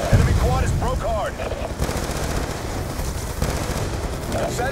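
Call of Duty: Black Ops 2 gunfire during a base-defense battle, dull continuous rattling and thudding blasts sitting under game radio chatter and voices, with a few sharper cracks along the way.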